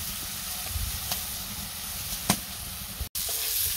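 Green chilies sizzle steadily in a hot pan, a close, continuous frying hiss broken by a few sharp scraping stirs and one brief dropout near the end, with no voices.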